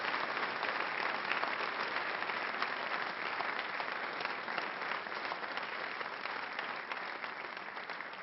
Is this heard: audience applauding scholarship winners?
yes